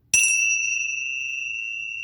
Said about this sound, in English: it's basically two metal cymbals on the ends of a leather strap. And you simply hit them together.